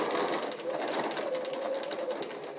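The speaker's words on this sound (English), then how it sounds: "I'm going to stitch right up to that pin." A sewing machine stitches slowly through pinned quilt fabric for a nine-patch quilt, giving a steady, close mechanical hum with a faint running whine.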